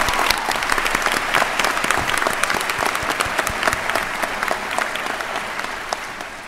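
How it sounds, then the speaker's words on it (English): An audience at a university commencement ceremony claps steadily, with dense sustained applause from a large crowd filling the hall throughout. "You get those guys and girls a big round of applause."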